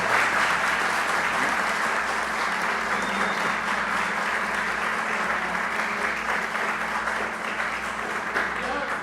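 Church congregation applauding in a steady, dense wash of clapping that continues evenly throughout, moderately loud, with a low hum beneath.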